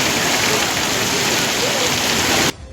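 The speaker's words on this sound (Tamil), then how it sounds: "பல்வேறு இடங்களில் இடியுடன் கூடிய கனமழை பெய்தது" Heavy rain pours steadily across the city of Chennai, a loud dense hiss with no distinct thunder crack, cutting off abruptly near the end.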